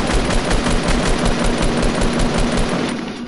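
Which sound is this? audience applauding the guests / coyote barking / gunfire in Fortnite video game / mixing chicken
gunfire in Fortnite video game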